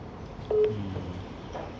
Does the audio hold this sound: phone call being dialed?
yes